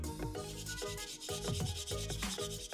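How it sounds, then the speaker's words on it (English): A 3D-printed Ironman mask part is wet-sanded by hand with 3000-grit waterproof paper in short, rhythmic back-and-forth rubbing strokes. The scraping is close and fairly quiet, with no talking. "I grabbed my 3000 grit waterproof sanding paper and the old bowl of water. And now let's get to sanding."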